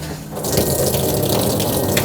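Water gushes from a shower faucet inside a living-quarters horse trailer during winterizing, a loud, steady rush that starts abruptly and runs on without talk.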